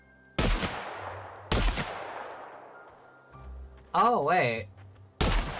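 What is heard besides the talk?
shotgun shots in the video game The Outer Worlds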